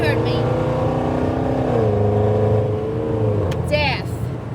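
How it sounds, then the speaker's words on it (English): A loud, steady engine drone fills the cabin of a moving car, a constant low roar with harmonic hum, while a voice briefly pitches up near the end. "we have the large sound of the car"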